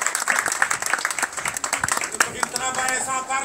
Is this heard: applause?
yes